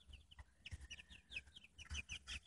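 Several chickens in a makeshift coop made from an old refrigerator cluck and chirp softly in quick irregular bursts, faint and close, with no talk.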